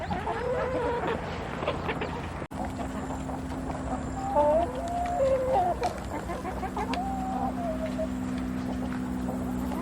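Hens clucking and murmuring softly in the background, with scattered bird calls and a low steady hum, no talking.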